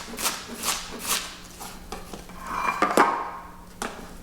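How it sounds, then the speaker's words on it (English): Onions being finely chopped with a knife on a board, a series of crisp close taps spaced irregularly, with a brief rubbing scrape in the middle and light kitchen clatter. "And I like a fine chop with my onions"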